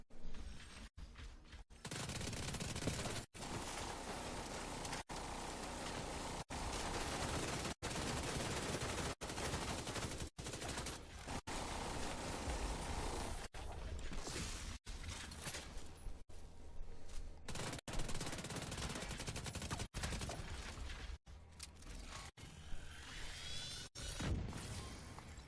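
Continuous heavy gunfire from the video game Tom Clancy's The Division 2, with sustained automatic bursts broken by short gaps and sharp cut-offs, loud and dense for the whole stretch, with no talking.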